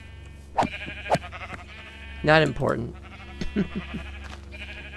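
In a Minecraft-style video game, an escaped sheep bleats a few times, with one long wavering bleat in the middle, while someone talks over it close to the microphone.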